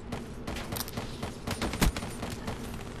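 Dense, continuous gunfire from the Black Ops 3 video game: rapid overlapping shots and bursts at steady loudness, with no voices.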